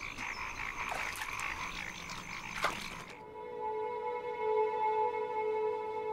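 Frogs croak in a pond in the mountains of southwest China, an overlapping chorus of raspy calls, then one steady sustained tonal croak that carries on alone, fairly faint.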